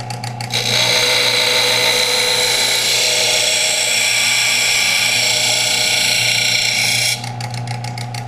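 A power sander grinds steadily against the edge of a hunting knife, putting a bevel on it; a loud, continuous abrasive whir runs for about six seconds, starting and stopping with brief clicking handling noise.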